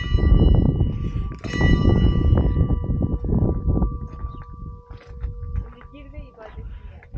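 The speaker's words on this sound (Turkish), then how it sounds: "Üç kere çan çalmamı istedi dayı" A church bell in an Armenian village is rung three times, resonant strikes whose tones linger and fade, while people talk loudly over it nearby.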